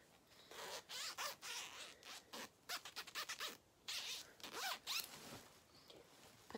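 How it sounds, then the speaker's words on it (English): A zipper on a soft, warm top is pulled in quick repeated bursts close by, bright rasping strokes with short pauses in between and no talking. "It's got a zipper."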